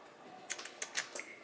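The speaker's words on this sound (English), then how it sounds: "I'm gonna go back to typing." Quick, light clicks of fingers typing on a computer keyboard while working from home, a short irregular burst of close, quiet keystrokes.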